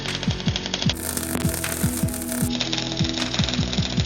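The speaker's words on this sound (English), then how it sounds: "it was back to the bench grinder to give it a post-welding clean-up" Bench grinder cleaning up a freshly welded shackle for a Mk2 Escort, a steady loud motor drone with a buzzing hum, repeated rhythmic throbbing pulses and brief brighter grinding surges.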